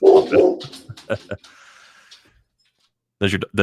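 A dog barks a few times at the start, close and fairly loud, mixed in with people talking during a live NHL trade-deadline podcast stream, followed by more talk.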